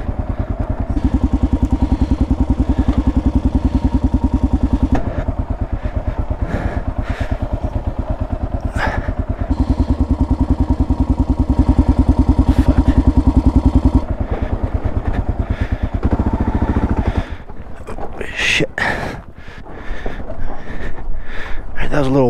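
Kawasaki KLR650 dual-sport motorcycle on a rough mountain trail, its loud, close single-cylinder engine thumping steadily with rattles from the rocky ground, then dropping to idle near the end while someone talks.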